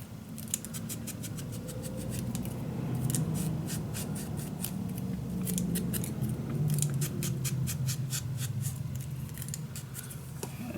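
Scissors snip through paper for a Roaring Twenties mini album in a box, making many close, crisp cuts in quick runs over steady low background hum, with no talk.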